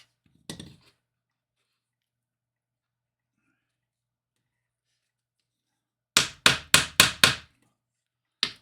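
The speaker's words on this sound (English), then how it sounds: "Hold your ears, those of you who don't want to hear the hammer." Hammer strikes drive a snug-fitting dollhouse kit part into place: a single knock near the start, then a quick run of five sharp taps around the six-to-seven-second mark and one more at the end, close and loud with silence between.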